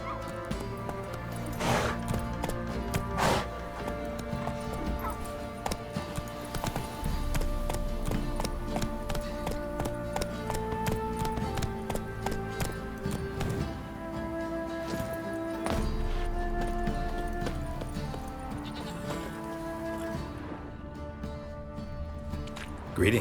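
Roach, the horse in the video game Witcher 3, gallops in a steady, close rhythm of hoofbeats that continues throughout, layered with tonal game ambience.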